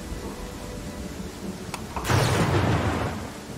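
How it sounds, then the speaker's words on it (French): Rain and thunder in the fantasy role-playing game Pathfinder Kingmaker: a sharp crack is followed by a rolling thunder rumble and a wash of rain noise over the last second and a half. "il pleut. Il pleut."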